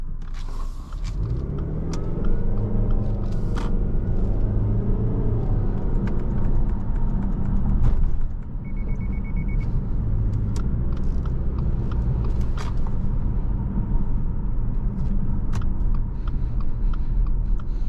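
A 2020 Subaru Ascent Touring's four-cylinder engine pulls steadily through its CVT, a continuous low rumble with road noise heard from inside the cabin, with no gear shifts and no voices.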